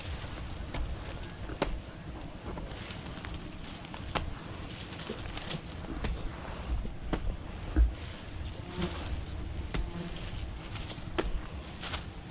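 Wild bees swarm around a honeycomb with a dense, continuous buzzing drone, close and steady, broken by scattered clicks and rustles.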